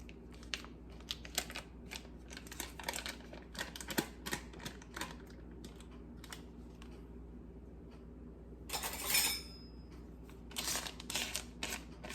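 Softened butter scraped off its paper wrapper for grandma's bread and rice pudding, a run of quick, dry scrapes and light crinkling taps close by in a quiet kitchen, with a brief burst of rustling near the end.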